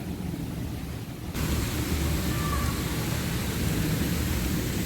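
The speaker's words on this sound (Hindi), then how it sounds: "यहाँ पे ना अभी ओले पड़ने शुरू हो गए, ऐसी तेज़ आवाज़ है।" A dense, hissing downpour of something pelting hard, growing suddenly louder partway through and then holding steady as a constant roar.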